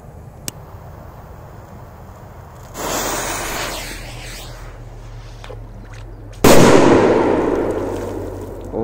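A Korsar 8 firecracker explodes in a lake. A deep, muffled underwater boom with a rushing, splashing tail is followed a few seconds later by a louder, sharper burst that rumbles and sprays out as it fades.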